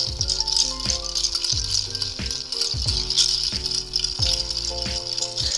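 Ice cubes rattle and clack steadily in a mixing glass as a Vieux Carre cocktail is stirred, a close, continuous churning with repeated knocking swirls and no talking.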